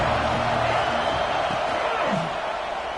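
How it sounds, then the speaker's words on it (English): A football stadium crowd makes a steady, broad roar throughout, a dense wash of cheering voices with no clear breaks, while faint low tones from the venue sit underneath. "This crowd ready to make its presence known."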